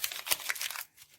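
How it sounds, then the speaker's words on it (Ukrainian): A paper surprise packet from a handmade cat-themed collection is opened, giving a short, close crinkling and tearing of paper, brisk and bright, that stops abruptly. "І відкриваємо наш пакетик."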